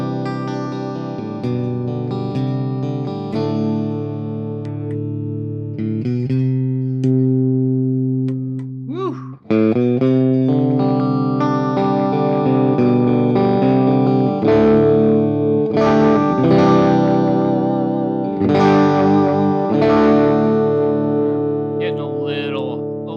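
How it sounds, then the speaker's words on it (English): Electric guitar played loud through effects, a sustained distorted, chorus-laden stream of chords and notes with a brief dip partway through, dense and close with no talking. "It is an electric guitar. It's supposed to be loud, right?"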